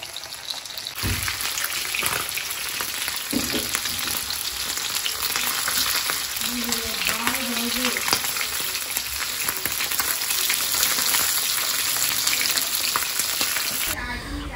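Hilsa fish frying in a pan gives a steady, loud sizzle and crackle that runs throughout, with occasional clinks and scrapes of stirring and no talking.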